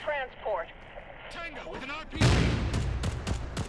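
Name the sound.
grenade explosion, video game Caliber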